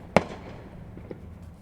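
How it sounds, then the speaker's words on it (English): Fireworks bursting in the distance: one sharp crack followed by a fainter pop about a second later, with low rumbling noise between. "We got fireworks."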